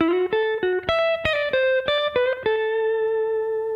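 A distorted electric guitar plays a quick melodic phrase of picked and sliding notes, ending on a sustained ringing note, with no voices.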